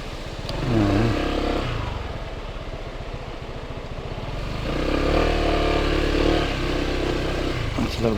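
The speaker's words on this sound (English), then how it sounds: "You can see the scooter just coming out there" Scooter riding along a muddy path to rice fields in Bali, a steady close engine drone that dips and rises in pitch as the rider slows and accelerates, with clattering from the rough ground.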